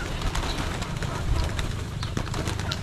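A flock of pigeons being fed at an outdoor skywalk, with soft cooing and a busy flutter of wings and pecking close by, under light background chatter.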